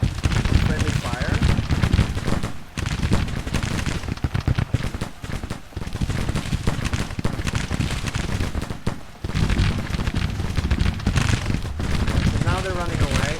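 Troops firing muskets in the Civil War video game Grand Tactician: The Civil War, heard as loud, continuous volleys of crackling gunfire with short lulls between bursts, while a person talks over the shooting.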